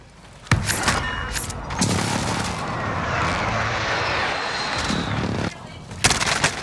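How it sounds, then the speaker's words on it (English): A precision airstrike in Call of Duty Warzone hits as a sudden blast followed by a sustained heavy rumble, with sharper impacts near the end. "Enemy precision airstrike, take cover."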